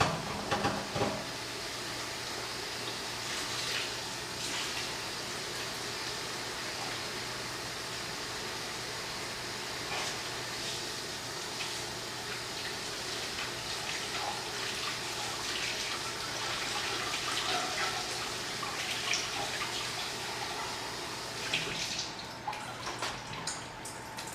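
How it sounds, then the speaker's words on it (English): Tap water running steadily while a bowl is rinsed out in a home kitchen during baking, a continuous close splashing with small knocks of the bowl. "Rinse this out real quick."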